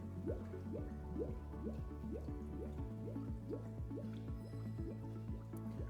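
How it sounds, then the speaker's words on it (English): Water bubbling and gurgling in a steady rhythmic series of glugs as the cylinder of an Electro Freeze CS-700 machine fills during flushing, with a low mechanical hum underneath. "we know when the bubbling stops, the cylinder is full because it can't pull any more in there"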